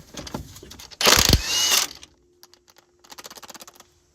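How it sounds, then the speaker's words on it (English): Impact gun with a socket removing a nut from a sway bar stud on a 1988 Ford Ranger, a loud rattling burst of hammering lasting about a second, followed by lighter ratcheting clicks. "Put your socket back on your gun. Pull your bottom nut."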